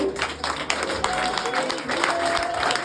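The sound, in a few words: audience applause for the High Commissioner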